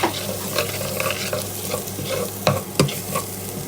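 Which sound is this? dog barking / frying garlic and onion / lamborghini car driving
frying garlic and onion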